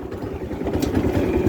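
A 420cc Predator go-kart engine that keeps dying under throttle, sputtering unevenly up close with a rough, pulsing low chug that wavers in loudness, no talking.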